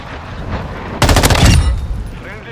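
Rapid automatic fire from an M13B rifle in Modern Warfare 2: a loud, dense burst of gunshots lasting about half a second, set against steady game ambience.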